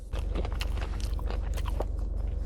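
Someone chews crunchy chicken cartilage close to the mic, with repeated crisp bites and crunches in an uneven rhythm over a low background hum.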